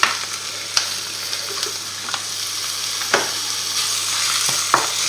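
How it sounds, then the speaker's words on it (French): Ground meat sizzles steadily in a hot pan while a spoon stirs it, adding occasional sharp scrapes and taps over the constant frying hiss. "Là, on rajoute notre viande hachée."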